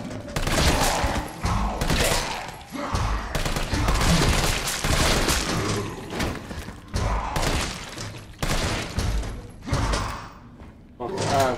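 Gunfire in Resident Evil 3 at a hospital, fired against a bulletproof enemy, comes as rapid bursts of shots and thuds, loud and near, mixed with mechanical clatter while voices talk over much of it.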